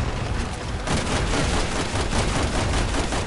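Gunfire from the video game Resident Evil 6 rattles in dense, rapid bursts, loud and continuous with no talking over it.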